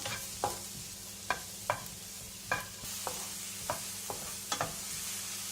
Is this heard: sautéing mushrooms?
yes